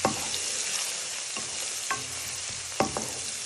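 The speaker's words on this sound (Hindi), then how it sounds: "इसके हल्का सा फ्राई करेंगे" Onions fry in a pan with garlic, ginger and garam masala, a dense close hiss of hot oil with a few sharp scrapes of a spoon stirring, and no voices.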